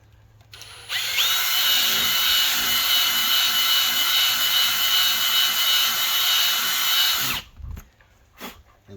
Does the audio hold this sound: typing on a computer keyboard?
no